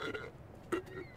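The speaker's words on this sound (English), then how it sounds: "I don't know how your brain can burp, but okay." A cartoonish burp from the Destroy All Humans video game, a short guttural belch mixed in with game character voices.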